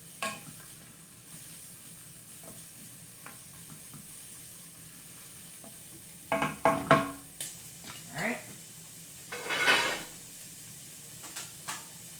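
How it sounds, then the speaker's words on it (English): Chopped onion frying in oil in a pan, a low steady sizzle with occasional louder scraping and stirring bursts, clattering of utensil against the pan, close and without talk. "I'm going to get the onion sizzling here."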